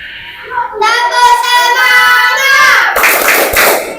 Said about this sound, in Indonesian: Coba Valen dengan Alvaro, coba pimpin tepuk semangat ya.